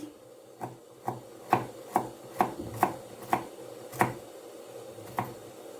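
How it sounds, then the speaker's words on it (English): A knife chopping two garlic cloves on a board, about ten crisp, close taps in an uneven rhythm over a faint background hum, with no talk. "We cut the garlic. Quickly cut it."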